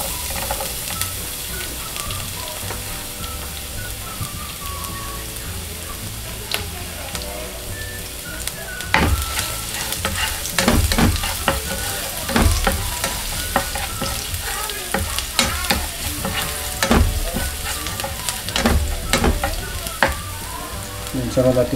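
Garlic sizzles in hot chicken oil for pork belly adobo, with a constant crackling fry close up and repeated scraping clatters of a utensil stirring the pan, growing busier toward the end.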